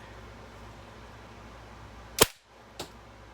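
A Daisy 880 Powerline air rifle fires a pointed pellet with one sharp, loud crack, followed about half a second later by a fainter knock of the pellet striking the target, over a quiet background.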